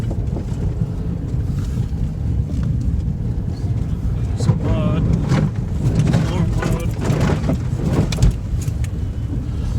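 Rough, rumbling Jeep Renegade Trailhawk noise with bumps and knocks as tires crawl over uneven rocky trail, rocks caught in the treads, with occasional wind buffeting.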